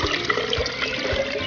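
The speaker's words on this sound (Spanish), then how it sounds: "Le agregamos 1 litro de agua." About a litre of water pours into a jug of coconut, a steady rushing splash running for the whole short stretch, close and fairly loud, with no voices.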